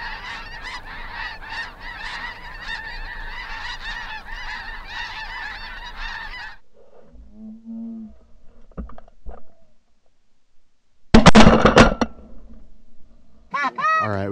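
Snow geese honk in a dense, rapid chorus for several seconds during a hunt, then the calls drop away to scattered sounds before a few loud, close honking bursts near the end.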